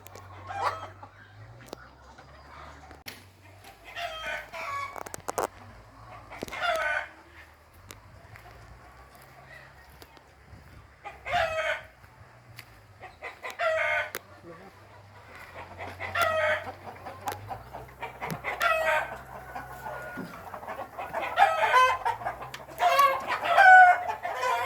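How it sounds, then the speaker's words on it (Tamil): Egg-laying hens and rooster crows in a poultry farm in Mandoor, Batticaloa, with repeated clucking and intermittent cock-a-doodle-doo calls rising over a steady low machine hum, busy and fairly close throughout. "இதுக்குள்ளே முட்டை இட்டு கொண்டிருக்கிற கோழிகள் தான் இருக்கு"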